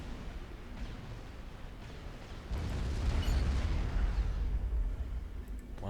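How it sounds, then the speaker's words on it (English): Zui units in Forged Alliance Forever unload an artillery volley, a dense rumbling barrage of low booms that swells midway and rolls on steadily over a continuous battle-noise bed. "Zui's fire a volley at that PD."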